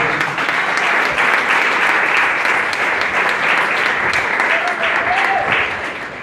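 A church congregation claps together in steady, dense applause that holds for several seconds and tapers off at the end, with faint voices mixed in.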